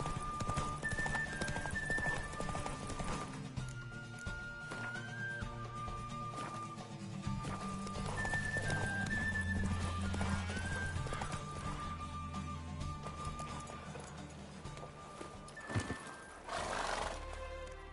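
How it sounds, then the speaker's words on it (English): A mare gallops in a horse race in the Witcher 3 video game, hooves pounding in fast clip-clop rhythm beneath music, with a loud neigh near the end. "Good race. Thanks. Truly swift, this mare."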